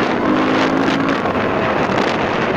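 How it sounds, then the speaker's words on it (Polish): A loud, steady single-cylinder Beta 450 enduro motorcycle engine drone with heavy wind buffeting the microphone, rumbling continuously throughout with no pauses. "I ten dźwięk silnika uwielbiam"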